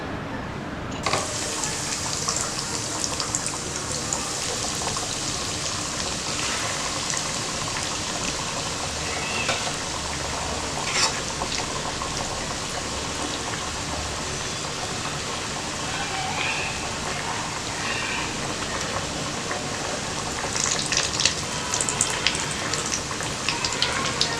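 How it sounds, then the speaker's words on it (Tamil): Mutton cutlets sizzle in a pan at home, a steady dense crackle and hiss of shallow frying that runs close and even throughout, with a few brighter spatter bursts and no talk. "இப்போ நம்ம ஃப்ரை பண்ணிக்கலாம்."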